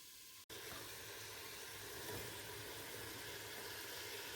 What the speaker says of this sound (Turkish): Biberlerimi de ekliyorum. Bu karışımı güzelce kavuracağım.